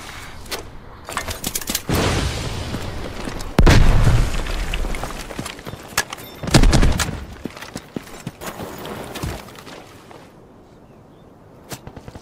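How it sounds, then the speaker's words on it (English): Rocket explosions in the Delta Force video game, several heavy booming blasts with sharp cracks and scattered gunfire around them, loud and near, with rumbling tails between the hits. "Oh, I'm getting rocketed"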